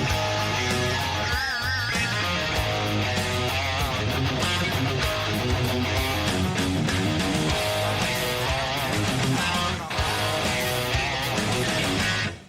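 Electric guitar playing the final riff of a song, a dense and busy rhythmic riff that runs steadily and loudly for about twelve seconds before cutting off, with no talk.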